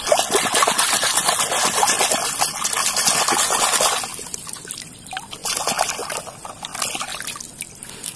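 Water runs and splashes while toy vehicles are washed. A loud continuous trickling pour fills the first half and then gives way to softer, intermittent dribbles and splashes.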